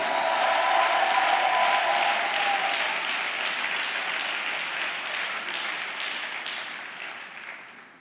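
A church congregation applauds and cheers for Jesus, a dense sustained wave of clapping and crowd voices that starts loud and slowly fades away over several seconds.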